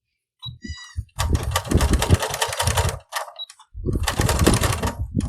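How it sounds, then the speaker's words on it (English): Sewing machine back stitching along a pant hem, running in two loud bursts of rapid, rattling stitches with a short pause between, close up. "then I'm going to give it a good back stitch right there. Okay, and then I'm going to do a back stitch a few times."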